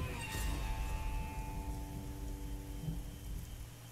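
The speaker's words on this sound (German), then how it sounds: "Ich habe Angst vor Gewitter." Thunderstorm with rain in the Deponia video game: a steady patter of rain and a distant rumbling thunder roll that fades over a few seconds, with faint tonal game sounds in the background.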